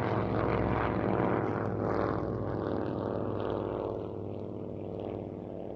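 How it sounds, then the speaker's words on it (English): Several vintage propeller aircraft, a de Havilland Dragon Rapide, two Chipmunk T-10s and an Avro Anson T-21, drone overhead in formation at an air show, a steady blended engine hum that slowly fades as they pass. "Over the motorway comes the Royal Fourship, the de Havilland Dragon Rapide, the two de Havilland Canada Chipmunk T-10s, and the Avro Anson T-21."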